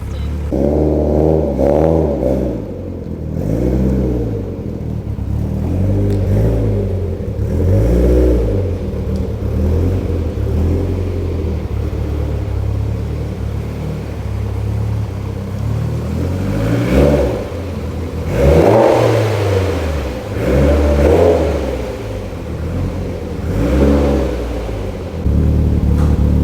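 A 2004 Subaru that has sat unused for a long time, its engine running and being revved, producing a loud continuous rumble with rising and falling swells of revs throughout, with no talking.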